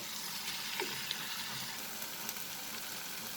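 Tomato masala seasoned with salt sizzles and fries steadily over a medium flame, a continuous crackling hiss with faint stirring clicks and no voices.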